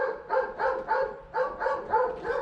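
Plott hound barking in a rapid run of about eight even barks, close and loud, alone without talk.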